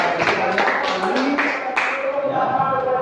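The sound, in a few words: group clapping hands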